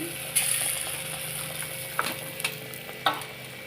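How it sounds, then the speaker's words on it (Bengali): Bok phool fritters sizzling in white oil in a wok make a steady, close frying hiss, with a few sharp clicks and spatters as they settle. "দেখো বড়াগুলো ছেড়ে দিচ্ছি"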